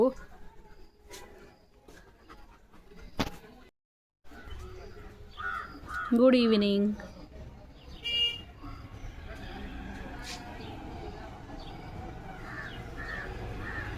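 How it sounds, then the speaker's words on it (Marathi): A crow caws a couple of times midway, fairly clear, amid outdoor background noise and people talking. "ते पक्षी काय म्हणतोय तुला"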